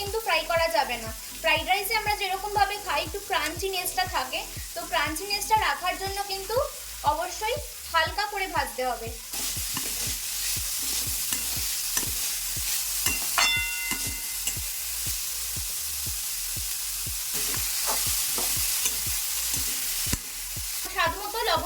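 Green beans and carrots fry in a pan for fried rice, with rhythmic scraping stirs over a sizzling hiss that grows louder and steadier later on, close up.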